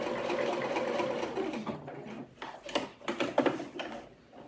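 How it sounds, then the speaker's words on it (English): A sewing machine backstitches the seam of a slip dress, running as a steady close whir and then changing to short, uneven bursts of stitching that stop and start near the end. "Once I get here, I'm gonna go ahead and just give a little backstitch."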